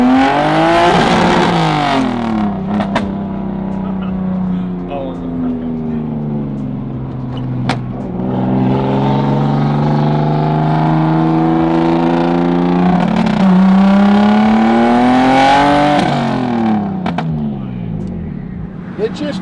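1000hp big single turbo BMW 335i engine revving: loud, close engine notes sweeping up and down through repeated rev climbs and drops, with talk in the cabin over it.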